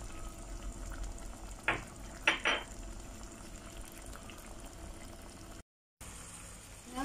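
Sardine pasta frying in a pan with a steady low sizzle, broken by a few short scraping stirs of a utensil against the pan, close and moderately quiet, with a brief dropout before the sizzle swells again.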